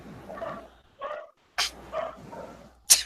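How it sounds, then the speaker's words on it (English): Dogs bark in a quick run of short, separate yaps and woofs, with brief silences between them. "Sounds like dogs."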